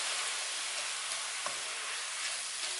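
Ground meat seasoned with salt and pepper sizzles steadily in a hot pan, a close, even hiss with a faint scrape of stirring and no voices.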